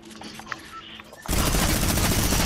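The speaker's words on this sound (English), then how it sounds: "Bro, who's shooting?" Gunfire in the game Fortnite bursts in loud and sustained at the midpoint, a dense continuous fusillade after a quieter stretch with faint background game sounds.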